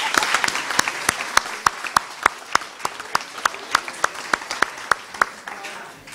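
A crowd claps together in a steady, evenly spaced rhythm, rising and sustained applause heard up close.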